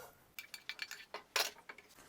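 A quick series of clinks and scrapes as fried vegetables are tipped into a metal pot, close and fairly quiet, one louder clatter near the end.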